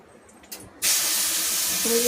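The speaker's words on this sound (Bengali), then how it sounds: "চালটা দিয়ে দিলাম, কড়াইতে চাল দিয়ে দিয়েছি" Rice goes into a hot pan with whole spices and erupts into a sudden loud, steady hissing sizzle that continues to the end, after a brief quiet start.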